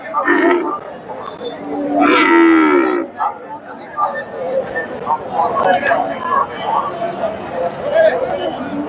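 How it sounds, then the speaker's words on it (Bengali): Friesian cross heifers at a cattle market, with loud close moos around two seconds in, a bellow amid steady crowd hubbub and chatter as people talk throughout. "ফ্রিজিয়ান জাতের বকনা"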